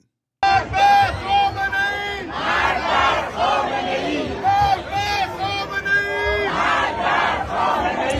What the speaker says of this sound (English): Here's me riling up the crowd last night.